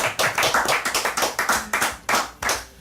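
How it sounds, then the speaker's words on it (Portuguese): Audience applause at a Brazilian TV show with a band as guests, loud rhythmic clapping in sharp, evenly spaced bursts, close and steady throughout. "eu quero uma salva de palmas"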